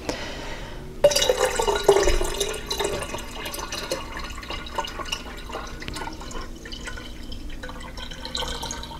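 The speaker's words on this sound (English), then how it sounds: "The coffee is cool, so I'm now going to pour it into the jar." Cooled coffee pours into a jar in a steady liquid stream that fills with a gurgling, trickling sound, starting with a brief clunk and continuing at moderate loudness with no talk.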